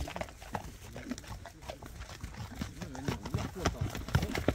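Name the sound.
horse hooves clip-clop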